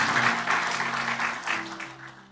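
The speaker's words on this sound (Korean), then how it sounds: "박수로 한번 격려하겠습니다" A church congregation at Sunday worship claps in encouragement after a prayer, a brief burst of moderate applause that fades out, with a low sustained tone from a keyboard or organ beneath it.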